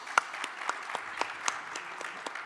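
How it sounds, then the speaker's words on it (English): At a blockchain venture summit, a small audience claps for the organizers. The claps are sparse and distinct, about ten of them spaced roughly evenly, with one sharper clap near the start over a quiet room. "So I want to applaud them as well with you"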